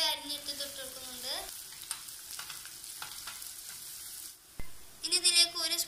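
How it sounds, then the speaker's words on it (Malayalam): Chopped onion frying in oil in a pan, a steady soft sizzle running through the whole stretch with a few stirring scrapes, close by; no talking. "ഒരു പാനിലേക്ക് അല്പം എണ്ണ ഒഴിച്ച് കൊടുക്കുന്നുണ്ട്. ഇതിലേക്ക് ഒരു ഉള്ളി അരിഞ്ഞിട്ട് തൊട്ട് കൊടുക്കുന്നുണ്ട്."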